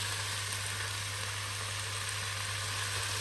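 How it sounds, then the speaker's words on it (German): Russian shashlik meat from a package frying in a pan on a camper stove, a steady close sizzle running unbroken throughout with a low hum underneath. "gibt es jetzt erstmal wieder das russische Schaschlikfleisch aus der Packung, nur in der Pfanne"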